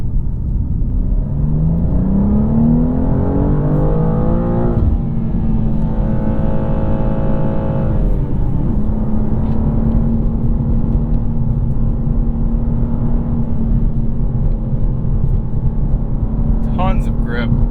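2023 BMW M2 with six-speed manual pulls hard along a winding road, its engine note rising steadily, dropping on a gear change, then holding a loud, constant drone under road rumble.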